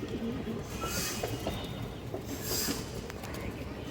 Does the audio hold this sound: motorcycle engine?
no